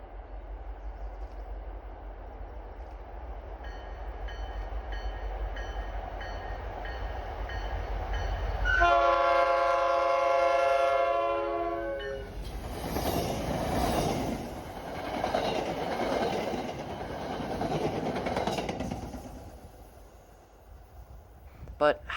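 An MBTA commuter train on the Rockport line approaches with a long multi-tone horn blast, followed by rumbling wheels and clattering rail noise that swells and fades as it passes close by.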